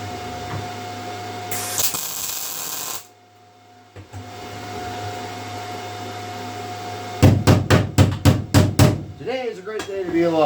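MIG-style welding on a patch panel for an old blue vehicle, a steady crackling buzz in bursts, then a short pause and a run of sharp rhythmic taps near the end, with a voice heard.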